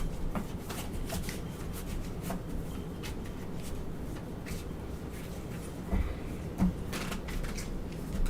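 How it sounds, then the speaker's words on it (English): Tarot cards are shuffled by hand in a steady run of papery riffling and sliding, close and continuous, with a couple of louder taps near the end. "I'm gonna have to give it one more shuffle."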